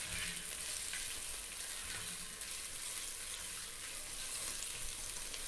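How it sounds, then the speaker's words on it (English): Railway chicken curry being stirred in a hot pan, a soft continuous sizzle and bubbling hiss, faint and even, with no voice over it. "give that all a stir through"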